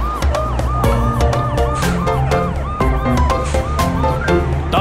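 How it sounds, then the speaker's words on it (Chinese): A cartoon red police car's siren wails in repeated rising and falling sweeps, mixed with a busy, loud musical backing that plays throughout. "红警车滴滴呜"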